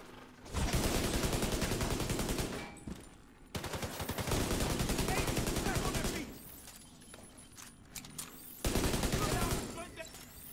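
Automatic weapon fire in The Division 2 video game, loud rapid bursts lasting several seconds each, separated by short pauses, with game sounds filling the gaps.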